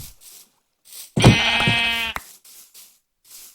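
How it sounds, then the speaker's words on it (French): A single loud, close sheep bleat from Minecraft rings out for about a second, bracketed by faint soft background sounds. "il y a des moutons blancs"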